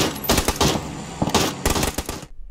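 An MK14 rifle from PUBG fires several rapid bursts of sharp, loud, close shots in quick succession, with short pauses between the volleys and an abrupt cutoff at the end.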